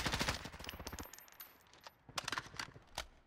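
Rapid automatic gunfire in Warzone crackles in close, loud bursts, a long stream at the start and more rattling volleys near the end, with little talk.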